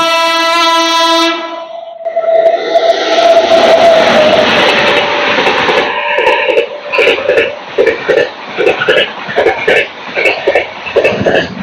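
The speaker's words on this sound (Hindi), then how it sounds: "train number 19314 Patna Indore express overtake फिर से मारने वाली है हमारी स्पेशल ट्रेन को भदौरा रेलवे स्टेशन पे" A Patna–Indore Express train overtakes at Bhadaura railway station: a long, steady horn blast rings out, then loud rumbling passage of the train with rhythmic clacking of wagons over the rails, heard close by.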